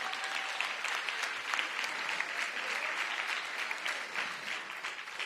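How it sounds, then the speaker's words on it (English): Audience applause at a mayor's public announcement event, an even spread of clapping from a gathered crowd with a few crisp individual claps, moderately distant and steady before tapering slightly at the close. "Give Hansel Kang a big round of applause"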